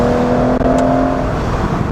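A 2006 Aston Martin DB9 Volante convertible drives with the roof open on back roads, its engine and exhaust giving a steady droning hum with a faint whir, with no talk over it.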